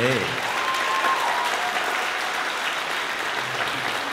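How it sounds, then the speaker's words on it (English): A large audience at a school jazz concert applauds steadily, dense clapping filling the room from start to finish with a faint voice briefly audible near the beginning. "one very large round of applause for all of our performers tonight"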